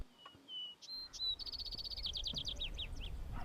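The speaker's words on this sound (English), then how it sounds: "it lit up the Vesper sparrows. I do love to hear their voices in the morning." A Vesper sparrow sings nearby in the open in the morning: a few clear introductory notes followed by a rapid, bright trill, over a faint low background rumble.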